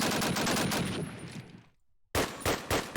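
Rapid automatic gunfire rattles loudly in an online competitive shooter match, breaks off into a short silence, then resumes in quick repeated bursts.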